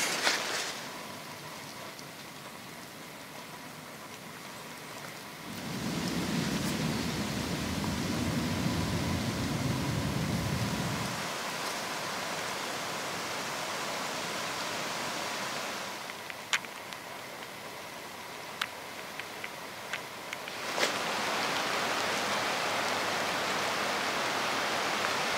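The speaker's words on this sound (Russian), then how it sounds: "Снова дождь припустил." Steady autumn rain hissing continuously outdoors in a forest, with a heavier surge partway through and occasional faint ticks and patters.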